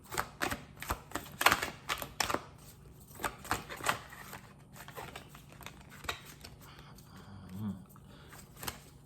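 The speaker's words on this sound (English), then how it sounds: "we're going to pull 4 cards" Tarot cards being shuffled and drawn from a deck, a run of quick papery flicks, slaps and riffles close by, busy in the first seconds and then lighter rustling with a soft low knock near the end.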